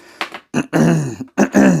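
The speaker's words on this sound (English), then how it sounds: "I keep coughing all the time" A few rough, voiced coughs and throat-clearing bursts come in quick succession, close and fairly loud, with brief silences between them.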